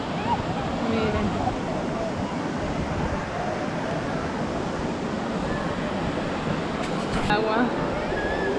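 Steady broadband rush of flowing water outdoors on a partly sunny day, continuous and fairly loud throughout, with faint voices now and then underneath.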